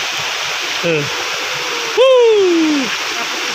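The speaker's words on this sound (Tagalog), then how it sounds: "Oh, may falls dito." A waterfall in the countryside gives a constant rushing wash of water beneath excited shouts and a loud whoop from people nearby.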